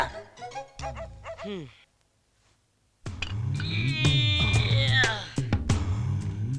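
A dog yelps and whimpers in rising, pitched cries, then goes quiet before a longer burst of yips and howls over loud background noise.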